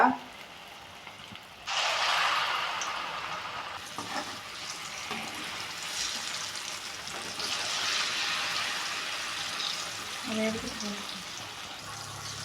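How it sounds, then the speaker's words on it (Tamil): Paruppu suzhiyam balls coated in maida batter drop into hot oil and sizzle steadily with a bright, rain-like hiss that holds through the clip. "இந்த மாதிரி நம்ம பால்ஸ் ஃபுல்லாக எடுத்து உள்ளே போட்டுக்கலாங்க எண்ணெயில்"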